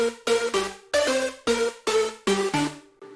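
Hardstyle synth leads in FL Studio clashing without EQ and without the stereo widener, a loud pulsing pattern of bright, harsh chord stabs in a steady rhythm.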